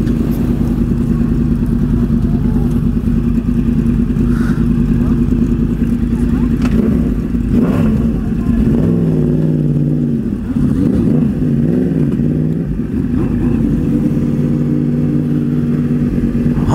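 Sport motorcycles, a Kawasaki ZX10 and a Yamaha Dragstar, revving during a group ride, making a loud, continuous engine drone that rises and falls in pitch, with people talking over it.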